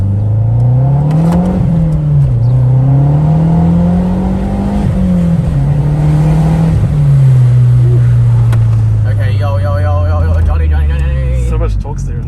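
A MazdaSpeed3 (MPS) engine revs and pulls hard in a steady, loud acceleration run, its drone rising and falling through gear changes, close up, with a voice briefly audible near the end.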